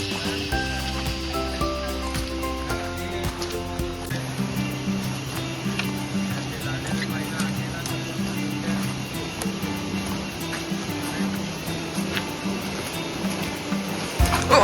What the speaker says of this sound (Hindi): ये जंगल के आवाज देखिए